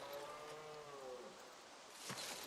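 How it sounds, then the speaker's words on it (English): A cow moos in the survival video game Project Zomboid, a single faint, drawn-out low call lasting about a second, followed by a brief rustling thump and quiet background. "Is that my cow?"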